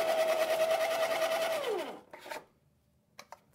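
Baratza burr coffee grinder running beans on its finest setting, a loud close whirring grind for about two seconds that winds down and stops, followed by a few faint clicks.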